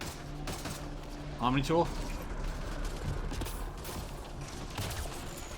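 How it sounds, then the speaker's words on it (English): A few gunshots in Mass Effect Andromeda on PC: sharp, close cracks with mechanical clicks, heard under someone talking over quiet game ambience. "Oh, I shot his head off!"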